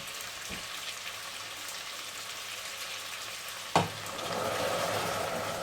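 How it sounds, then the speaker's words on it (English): A gentle, continuous sizzle in a pan of rabbit plov is interrupted by a sharp splash as boiling water is poured in, after which the frying noise swells into a louder, fuller bubbling hiss. "Bit of a difference in sound there as that boiled water goes in."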